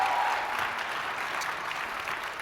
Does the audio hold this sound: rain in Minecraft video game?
no